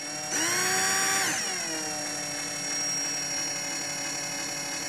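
A Hitachi power drill runs with a steady, loud whine that spins up, holds briefly at higher pitch, then settles into a lower sustained hum as it keeps running, close by with no talk.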